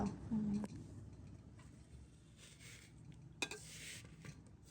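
Semai vermicelli frying in ghee in a home kitchen pan, a faint low sizzle with a few stirring clinks, under quiet talk.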